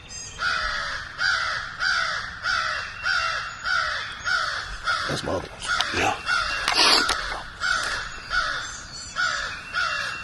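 Crows caw loudly and repeatedly in a steady rhythmic series across a Georgia turkey-hunting setting outdoors, with a few brief spoken words from nearby people partway through.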